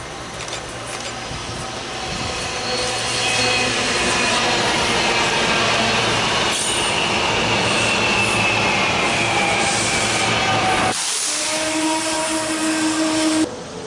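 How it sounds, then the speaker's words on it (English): A SEPTA commuter train pulls into Croydon station on the Northeast Corridor with a loud, steady electric whine and rolling hum that carries on for several seconds before dropping off sharply. "we saw our second SEPTA train of the day pull into the Croydon station stop"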